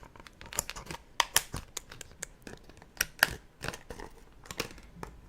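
Tiny scissors snipping through crinkly plastic wrapping of Japanese squidballs, a series of sharp clicks and crackles at an irregular pace, close and quiet, recorded binaurally.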